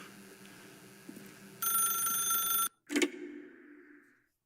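A telephone bell rings inside a video game, a loud steady electronic trill lasting about a second, then a short clunk and a brief lower tone that fades over a quiet ambient background.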